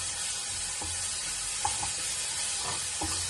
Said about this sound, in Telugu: ఆ పేస్ట్ వేసేసుకొని అది పచ్చిమిర్చి కాబట్టి కొంచెం వేయించుకోవాలి